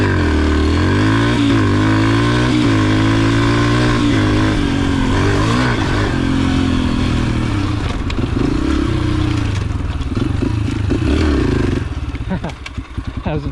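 A pit bike rides on sand dunes, its small engine loud and close, revving and shifting pitch with a rough buzzing drone and rattles, and the engine falters near the end.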